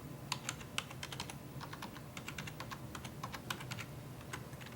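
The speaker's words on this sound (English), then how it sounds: "and then type in your library password." A library password being typed on a computer keyboard: a steady run of light, close keystrokes with a few slightly louder taps, over a quiet room hum, no voices.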